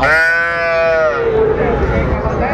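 A single loud, drawn-out bellow from a young bull or heifer at a Dinajpur livestock market, close by, lasting about a second before fading into crowd noise.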